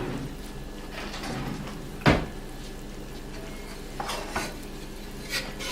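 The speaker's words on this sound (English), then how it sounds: "Give it one little stir first" Gumbo in a cast iron pot is stirred, with one sharp scrape or knock of the utensil against the pot and a few softer clinks over a quiet simmering background.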